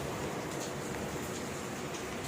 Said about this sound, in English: you can see the raining is going on.